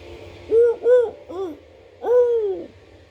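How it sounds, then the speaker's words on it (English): An owl hoots at night, four clear, fairly loud calls in an uneven rhythm, the last one drawn out, over a quiet low hum with no talking. "There's an owl. Did you hear the owl?"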